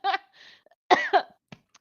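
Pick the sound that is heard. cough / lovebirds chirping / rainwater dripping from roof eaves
cough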